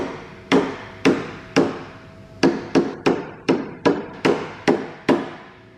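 A tape-wrapped hammer taps parts onto a fire-damaged Landini a dozen times, sharp taps at first spaced out then quickening into a steady rhythm, close and clear with no talking.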